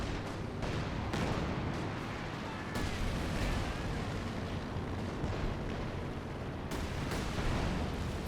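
Bombs from a Stuka dive bomber pound a battlefield in the video game Company of Heroes 2, with a dense, continuous rumble of explosions and booming blasts, loud and sustained, with sharper impacts breaking through.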